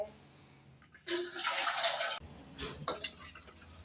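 Tap water runs for about a second as food is washed by hand in a kitchen, followed by close splashes, drips and wet handling sounds, with no talking.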